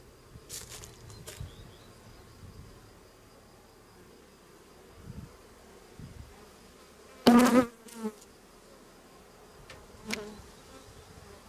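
Honeybees from a captured swarm buzz around a small nucleus hive box being set in its final spot, a soft steady hum with a few sharp close fly-bys and brief knocks.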